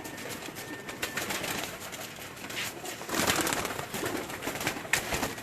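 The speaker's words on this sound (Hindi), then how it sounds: "ये देखें जी, मियां मेन सलारे कबूतर हैं" Salara pigeons coo softly on a rooftop, with gentle repeated calls and a few wing rustles mixed into a faint background.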